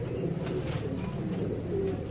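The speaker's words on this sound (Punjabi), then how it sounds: "ਇਸ ਕਬੂਤਰੀ ਨੂੰ ਹੁਣ ਮੈਂ ਛੱਡਣ ਲੱਗਾ ਬਾਹਰ" A female pigeon held in a keeper's loft gives a soft, low, rolling coo. The sound is faint and steady, with no talk over it.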